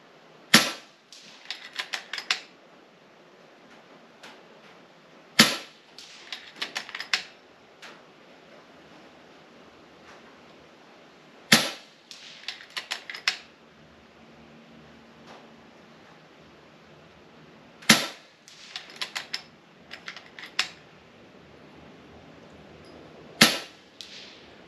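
An FX Impact M3 air rifle fires five slugs at a target, each shot a sharp, loud crack followed by a brief rattle of impact, spaced roughly five to six seconds apart with quiet between.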